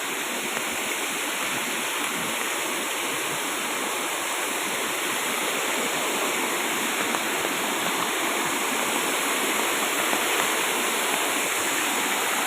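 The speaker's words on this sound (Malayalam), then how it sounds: "നമ്മുടെ രണ്ടാമത്തെ വെള്ളച്ചാട്ടം കേട്ടോ." A forest waterfall rushes in a constant, loud, broadband roar that stays unchanged throughout, with no voices over it.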